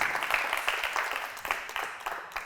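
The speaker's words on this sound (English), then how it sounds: "can we have a round of applause, please, for our first guest speakers?" Audience applause for guest speakers at a business talk, a steady patter of many hands clapping in a hall, moderately loud and sustained throughout.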